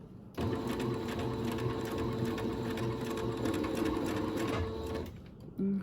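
A sewing machine stitches a man's shirt in one steady, close, continuous run lasting about five seconds, with a rapid even hum, then stops abruptly near the end.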